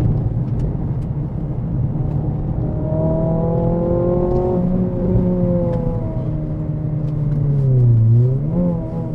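A Renault Clio RS3 revs hard on the move, its engine note climbing in pitch over several seconds, easing off, then dipping and rising again near the end over steady road and cabin noise.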